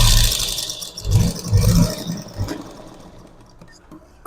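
A sewing machine stitches piping onto a garment neckline, its motor whirring in a few short, close bursts around the middle before fading to quiet.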